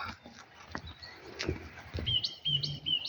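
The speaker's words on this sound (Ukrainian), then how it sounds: "а птахи співають безкоштовно" Birds chirp and sing softly in a flowered garden by a pool at a Transcarpathian resort, with short high tweets scattered over faint background noise and a few low thumps.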